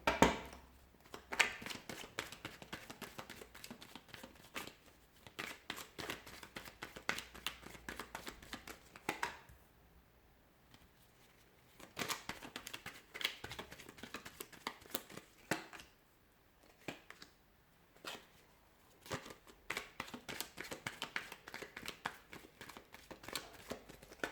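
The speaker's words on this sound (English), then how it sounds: "let's give the cards a shuffle and begin" Tarot cards shuffled by hand in bursts of crisp riffling and slapping, close and clear, with brief quiet gaps between rounds.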